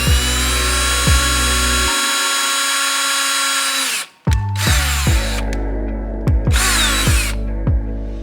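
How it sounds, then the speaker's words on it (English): Power drill boring a hole into the back door handle of a Civic, several loud whirring runs with short pauses and brief stops between bursts, close by. "Now on the back door handle, I am going to drill the hole right here."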